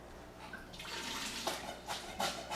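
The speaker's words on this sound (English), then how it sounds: "I refill all of the little tanks with water" Water pours into small betta fish tanks in a fish room during refilling, a soft splashing stream that grows steadier and louder with a few brighter gushes.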